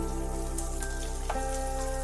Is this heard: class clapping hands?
no